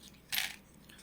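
Collectible coins, including a 1989 British 20 pence piece, clink together once in a brief, faint metallic chink against a quiet background.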